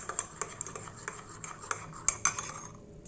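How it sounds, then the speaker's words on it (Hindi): A spoon stirs sugar into coffee in a cup, making a steady series of light clinks against the sides, close and fairly quiet, with no voices. "तो चलो थोड़ा चीनी डालते हैं"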